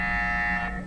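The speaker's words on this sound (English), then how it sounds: "That's definitely the buzzer, whoever the buzzer is." A quiz buzzer during a RuneScape live stream quiz gives one short, steady, harsh electronic tone lasting under a second, loud and alone.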